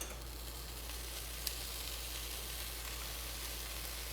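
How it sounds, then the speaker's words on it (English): Parmesan cheese sizzles quietly in a hot pan on a chaffle, a soft continuous crackle and hiss, with one sharp tick partway through. "You can hear it sizzle."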